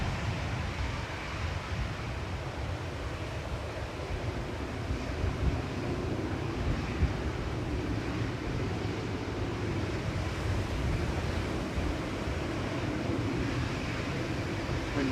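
Wind gusting across Manchester Airport, a steady low rumbling roar buffeting the microphone throughout, with no voices.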